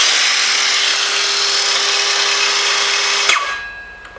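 A DeWalt DCS391 cordless circular saw with a brushed motor spins freely with no workpiece, a loud steady whine close by that cuts off abruptly near the end and winds down.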